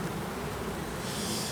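Honey bees buzz in a dense, steady drone close by at an open hive, quiet but unbroken throughout.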